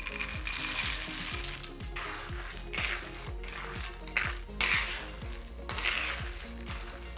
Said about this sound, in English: Let's drop in our peanuts.